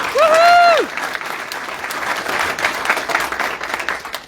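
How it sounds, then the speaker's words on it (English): A school audience gives a student a round of applause at a board meeting, a steady wash of clapping behind a brief whistle-like tone at the start. "Let's give Caleb a big round of applause."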